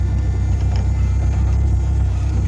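A car with a rebuilt engine pulls away for a test drive, giving a steady, close, low rumble with a faint whir and no voices over it.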